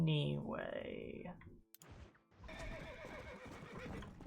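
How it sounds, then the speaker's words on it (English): A horse neighs loudly up close during a ride in the Red Dead Redemption game, its whinny rising then falling over the first second and a half; after a short gap, hoofbeats and game ambience follow with a voice speaking over them. "We'll just take a nice horse ride over there."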